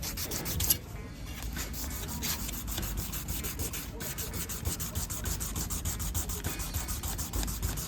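Stainless steel trim is hand-sanded with sandpaper by someone wearing thin TIG welding gloves, giving a steady, close rasping rub with a rhythmic back-and-forth pulse throughout.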